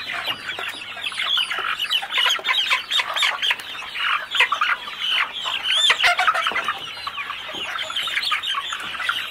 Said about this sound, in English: So there are the birds eating again from the top deck.